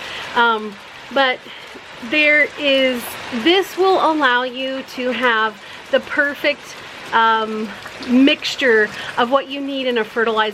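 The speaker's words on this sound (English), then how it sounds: "It's raining, I'm sorry for the noise" Rain falls steadily outdoors in a garden, a soft continuous patter beneath someone speaking close up throughout.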